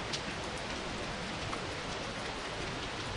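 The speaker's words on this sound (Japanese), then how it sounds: "雨は降っている。少々と降っている。" Steady rain falls on a grassy field where horses stand grazing, a dense, even hiss of drops filling all three seconds without pause or voices.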